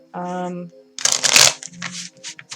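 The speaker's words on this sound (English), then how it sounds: "I'm going to shuffle up some decks" Tarot card decks are shuffled by hand, a quick run of riffling, papery flutters and taps following a brief spoken phrase, close and fairly loud.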